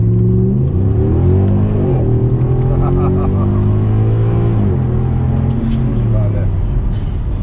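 A powerful Mercedes W211 E63 AMG engine revs up and down, loud and close from inside the cabin, while someone laughs over it.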